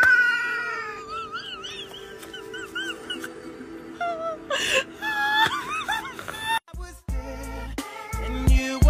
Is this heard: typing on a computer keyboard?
no